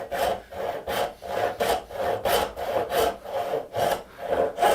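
Hand saw cutting through wood for a bridle joint, a steady back-and-forth rhythm of about ten rasping strokes, close and clear with no talking.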